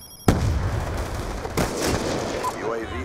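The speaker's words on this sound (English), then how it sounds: "Sneaky shot there. Get the headshot." A Ballista sniper rifle fires in a first-person shooter on the Turbine map: a sharp, loud crack, then a second report about a second later, with busy in-game sounds trailing after.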